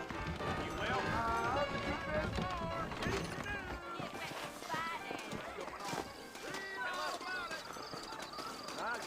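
Rhythmic horse hooves clip-clop along in Red Dead Redemption under someone speaking, with music and other voices layered in the background.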